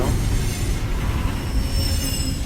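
A train car rolls along in the video game Alpha Protocol, wheels squealing and rumbling continuously with a loud low roar and high screeching tones, no voices.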